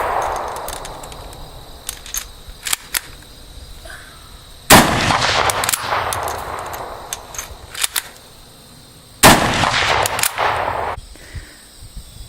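A Ranger .22 target rifle fires at targets outdoors: two loud, sharp shots with ringing tails stand well apart, with a few smaller clicks and knocks in between.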